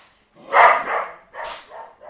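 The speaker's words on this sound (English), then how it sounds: "Oh, what an embarrassing dog." A dog gives two close, loud barks, the second slightly softer, indoors.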